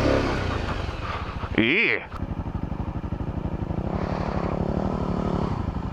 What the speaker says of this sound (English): I can hear the thumping of your exhaust.